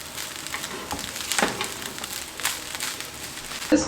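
Garlic and onion stir-fry in a pan, sizzling steadily close up, with scraping stirring strokes and a knock near the end.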